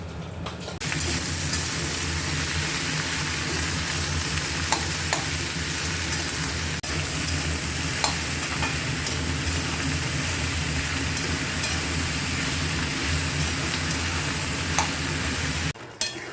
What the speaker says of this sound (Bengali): হয়ে গেল লাউ দিয়ে পুঁটি মাছ রান্না ভেজে নিলাম